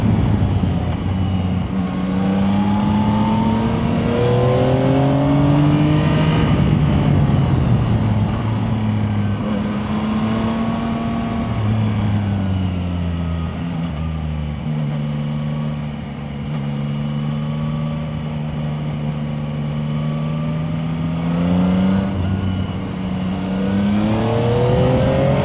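A Yamaha Tracer 9 GT+ touring motorcycle engine heard from the saddle, rising and falling in pitch through repeated accelerations and decelerations over a constant rush of wind and road noise.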